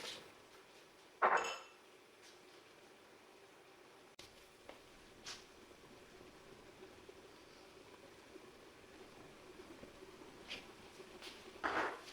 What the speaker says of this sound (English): And we stir occasionally until the apples have softened